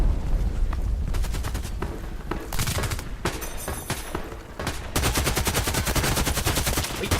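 Rapid automatic AK-12 gunfire in the shooter game Contract Wars, loud and close, comes in long sustained bursts broken by brief gaps, with faint in-game noise beneath.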